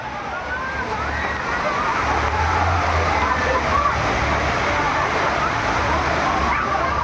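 Water gushing down a water park fall, a loud continuous rushing and splashing roar that stays strong from start to end without voices.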